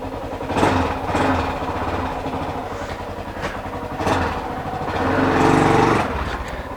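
Honda XR600R single-cylinder dirt bike idling and revving just after a first-kick start, a close, steady rough engine drone with throttle blips around the second and sixth seconds and no talking.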